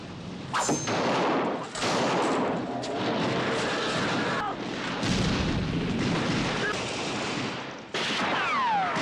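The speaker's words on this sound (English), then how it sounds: "Blofeld is about to shoot Bond but shoots Osato instead" Gunfire and explosions from a battle scene in the 1967 James Bond film You Only Live Twice, dense continuous loud booms and blasts filling the whole stretch.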